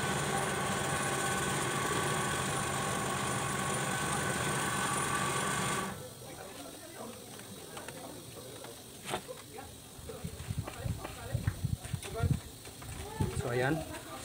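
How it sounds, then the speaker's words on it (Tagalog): An air compressor runs with a loud, steady mechanical drone for about six seconds, then cuts off, leaving quieter clicks and handling noises. "medyo maingay yung andar ng compressor"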